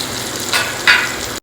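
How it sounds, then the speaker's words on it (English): Pieces of karonda frying in hot oil for pickle, a loud close sizzle that surges twice as the pieces hit and move in the pan, then cuts off abruptly. "we will now add in these karonda pieces. And just fry it in the oil."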